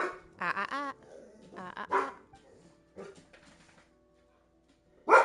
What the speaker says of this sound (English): put my dog away. He's nervous of the neighbors